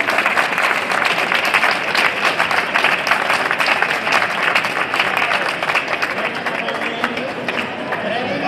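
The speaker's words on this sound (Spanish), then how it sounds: "Aplaudirme, aplaudirme." An audience at an international ham-carving competition final gives dense, sustained applause that stays loud and close for several seconds before easing slightly.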